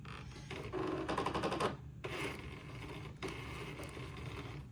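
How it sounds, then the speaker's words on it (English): A sewing machine stitches a baby garment's shoulder seam through three layers of fabric, in two close bursts of mechanical whirring with a brief pause between them, steady and near. "So I'm going to sew my shoulder seam through all three layers."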